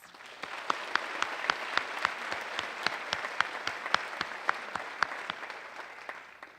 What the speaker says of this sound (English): Please do give Alan a round of applause.